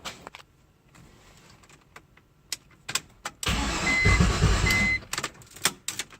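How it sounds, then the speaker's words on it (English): A BMW E46 with a swapped-in V8 cranks on its starter motor in one loud, grinding burst of about a second and a half. Sharp clicks and clunks come just before and after it. "I'm going to give this starter a test."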